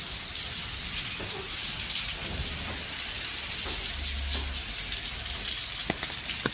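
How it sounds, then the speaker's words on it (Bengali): Steady, dense hiss of heavy rain falling nearby, a continuous wash of noise with occasional louder drips and splashes, water flooding the ground. "অনেক বৃষ্টি হইতেছে"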